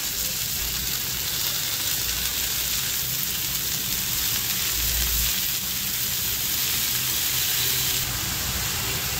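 Chickpea leaves frying in hot garlic and chili tempering on a flat pan, a dense continuous loud hiss of sizzling with low rumbling underneath.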